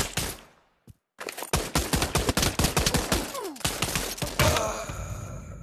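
Gunfire in the virtual reality shooter Pavlov, a rapid run of loud, close shots in bursts after a brief silence, ending in a denser volley.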